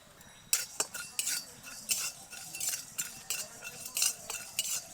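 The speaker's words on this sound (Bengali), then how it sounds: "সেগুলো শুকনো কড়াইতে ভেজে নেব" Whole coriander, cumin, cardamom, cloves and peppercorns stirred in a dry wok, giving a brisk run of rattling scrapes and light metallic clinks in a quick, irregular rhythm, close and fairly loud.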